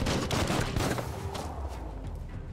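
Dense gunfire crackles through a Biomutant battle, a rapid continuous fusillade with repeated bursts that stay loud and busy throughout, mixed with other combat noise.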